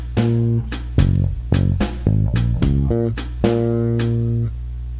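Electric bass guitar plays the full Tame Impala "Lost in Yesterday" groove, a run of deep, sustained notes with plucked attacks in a steady rhythm, close and clear with no talking.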